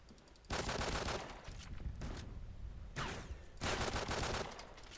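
Rapid automatic gunfire in the video game Call of Duty Ghosts, dense sustained bursts of shots broken by brief lulls, loud and continuous.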